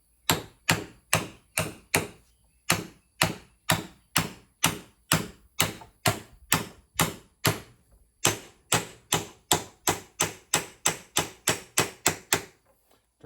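A lawnmower spindle bearing being driven in with a 1 1/8 socket: a long, steady series of sharp, loud metallic hammer strikes, close up, evenly paced with a few brief pauses, and no talking.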